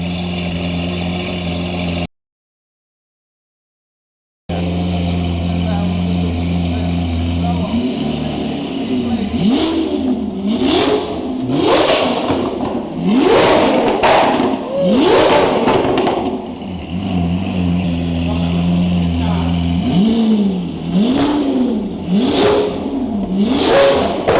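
Car engine fitted with a homemade Aventador-style exhaust, idling and then revved hard in a series of loud, rising and falling blips, heard up close after a brief silent gap.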